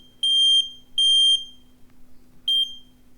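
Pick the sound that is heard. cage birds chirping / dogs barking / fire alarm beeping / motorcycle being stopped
fire alarm beeping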